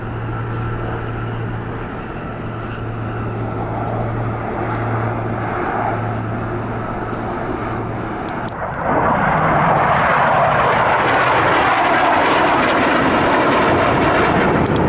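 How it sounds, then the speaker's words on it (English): Helicopters drone overhead in Serbia with steady engine and rotor noise, growing much louder and closer halfway through. "Pretty much every helicopter in Serbia seems to be out at the moment."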